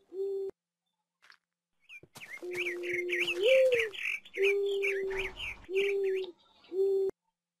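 Tamed bird calls in the Minecraft Mo Creatures mod: a series of steady, clear whistled tones, several of them, with a busy burst of chirping and tweeting in the middle, close and fairly loud.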